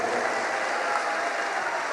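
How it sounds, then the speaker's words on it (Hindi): Sustained crowd applause fills a religious katha gathering in Dubai, a steady dense clapping from many hands throughout, with no pauses or voices standing out. "खूब जोर से ताली बजा करके साधुवाद दो"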